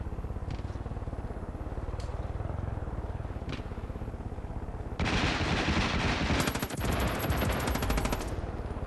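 Gunfire in the video game Far Cry 5 Arcade, scattered single shots at first, then a dense sustained burst of automatic fire that grows louder and rapid, over a constant low background rumble.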